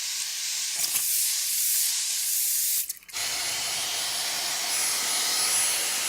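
A fine water setting spray is spritzed onto a made-up face, giving a close, steady hiss that runs for several seconds, breaks off briefly, then resumes, with no talking.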